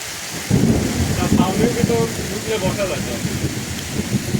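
Heavy rain pours steadily while thunder rumbles loudly and rolls on, close and deep, filling the whole stretch.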